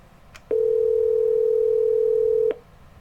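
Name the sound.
phone keypad tones pressing voicemail message button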